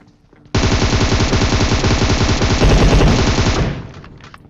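Gunfire in the battle royale game PUBG, a loud, sustained burst of rapid shots lasting about three seconds and then cutting off, with no talk.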